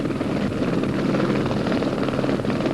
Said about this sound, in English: The pilot and medics load the patient into the helicopter.